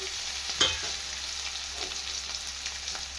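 A pan of green chillies, tomato, seeds and lentils frying in oil, stirred with a spoon. A steady soft sizzle runs throughout, with one sharp scrape and a few lighter clinks of the spoon against the pan. No one speaks.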